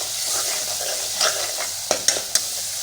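Ingredients roasting in a pan for a ridge gourd curry, giving a continuous close sizzle with a few quick spoon taps and scrapes toward the end, no talk.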